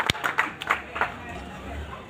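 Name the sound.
audience clapping to welcome and congratulate the MP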